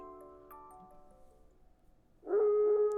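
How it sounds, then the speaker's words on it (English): A long rising howl from the video game Raging Loop, loud and sustained over the final second after a quieter stretch of tonal game music. "A howl."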